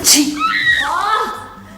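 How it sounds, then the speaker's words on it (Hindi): A sneeze bursts out at the start during eye makeup and eyeliner application, a sharp loud onset followed by a gasping, breathy tail and fading vocal sounds. "मुझे तो छींक आई थी"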